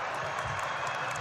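Basketball crowd noise at ExtraMile Arena during a San Jose State at Boise State college game, a steady broad roar of applause and cheering from a large arena audience, brief and continuous.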